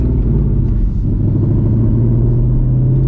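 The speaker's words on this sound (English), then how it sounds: "I am gonna do a test hit though, warm the tires up." A race car's engine rumbles steadily at close range during a test hit to warm the tires at the drag strip, a loud continuous drone with no voices over it.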